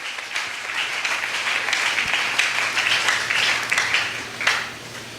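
A church congregation applauds together at a Sunday worship service, a sustained wash of clapping from many hands that swells and holds for several seconds at moderate distance.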